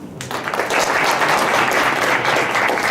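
Audience applause at a startup venture forum after a five-minute pitch, a dense, steady clapping from a room full of people that swells quickly and holds at full strength throughout.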